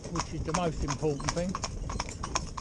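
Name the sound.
horses' hooves clip-clopping on a public road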